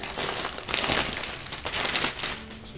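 Close crinkling and rustling of plastic or paper wrapping as a pre-made flower bouquet is unwrapped, continuous and fairly loud with short bursts, and no talking.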